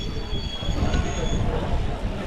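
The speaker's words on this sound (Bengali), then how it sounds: "হ্যাঁ ট্রেন দাঁড়িয়ে গেছে" A train slowing to a halt on the Tarapith to Santiniketan route, with steady loud rumble and high metallic wheel squeal running throughout, close and continuous.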